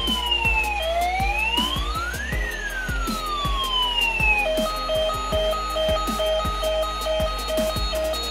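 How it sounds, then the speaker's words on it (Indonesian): Ambulance siren from an animated children's cartoon, a loud, steady wail rising and falling over overlapping siren tones and a dense run of clicks and taps throughout. "Oke, ayo ambulan berangkat."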